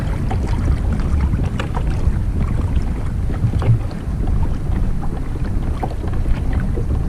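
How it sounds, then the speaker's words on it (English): A Lightning Kick 106, a 10-foot kayak, is paddled against the wind, with continuous rumbling wind buffeting on the microphone and faint water splashes from the strokes throughout. "paddling right now. Maybe it's because of the wind, because I'm against the wind now."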